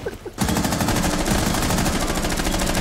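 Sustained rapid automatic gunfire in the video game Rainbow Six Siege, starting abruptly after a brief quiet moment and continuing as a loud, evenly spaced burst.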